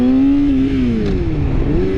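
A Yamaha R6 sport motorcycle engine revs hard during a clutch-up attempt, a loud, close, continuous buzzing drone whose pitch rises, dips, then climbs again, heard alone.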